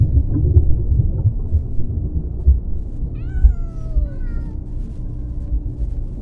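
Cats meow, first a cluster of short calls and then a few more, over a constant low rumble of thunder-like background noise.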